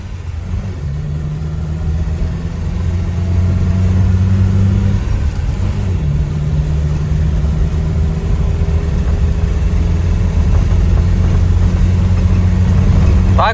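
VAZ 21011 car with a 1.3 engine accelerating, a steady loud mid-low engine drone that builds and holds throughout, with rising harmonic tones as it revs.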